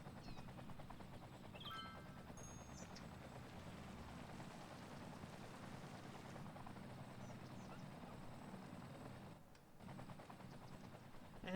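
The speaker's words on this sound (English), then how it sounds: "the bucket helicopters are gonna come over and fight the house fires too" A firefighting bucket helicopter flies overhead in the city-building game Cities: Skylines, giving a steady rotor drone that holds at an even level for the whole stretch, with faint game effects layered on top.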